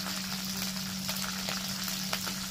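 Hot oil in a pan before whole dried red chillies go in for a chicken curry, a dense continuous crackle and spatter with a few sharper pops, close up and alone under a steady low hum.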